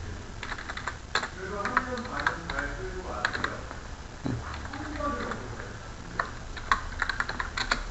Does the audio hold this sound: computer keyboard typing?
yes